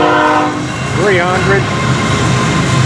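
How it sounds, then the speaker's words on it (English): An FEC freight train pulled by six locomotives rumbles past nearby with a continuous rolling roar and brief wavering tones, while a man calls out numbers over it. "As FEC206 makes its way to us. This is a powerhouse, 6 locomotives, and a tender on it."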